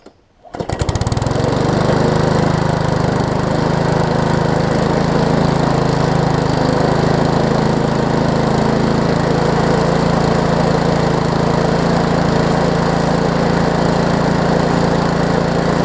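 A push mower built from a Weed Eater engine on a Craftsman deck starts after a short pull and settles into a loud, steady running drone with a slightly uneven, throbbing idle that continues close-up without talk.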